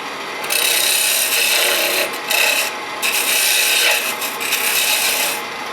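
A woodturning tool scrapes and cuts a taper into a wooden box spinning on a lathe, giving a steady, loud raspy rubbing with short pauses as the tool lifts off and goes back in.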